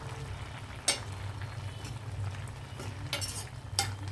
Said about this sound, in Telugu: ఒకసారి ఇదంతా బాగా కలుపుదాం.